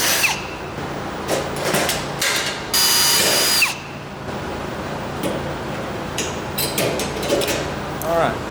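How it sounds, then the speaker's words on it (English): Drill boring a cleco hole in a 1932 Ford car body panel during a chop-top job, a short high whine burst amid clicks and shop noise, with someone talking around it. "I'm going to drill a new cleco hole"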